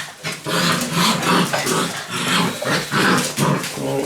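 Several 43-day-old Labrador puppies playing near one another, with continuous growls, yips and small whimpers coming in quick overlapping bursts, loud and close.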